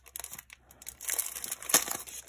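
Crinkly plastic wrapping of a die cut sticker pack being opened, with a series of close crackling rustles that build louder in the second half, alone without talk.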